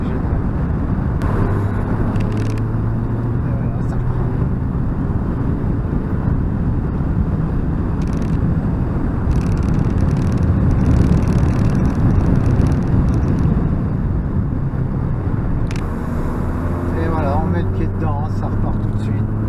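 A Citroën DS3 with a THP engine revving during an intake valve cleaning, a loud, rough engine roar that holds steady with some wind noise, and people talking over it near the end.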